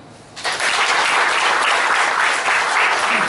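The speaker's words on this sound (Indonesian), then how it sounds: "Kasih tepuk tangan." A church congregation at Gereja Isa Almasih Kelapa Gading breaks into loud applause after a brief quiet moment, the clapping filling the room as a dense, even roar that carries on without pause.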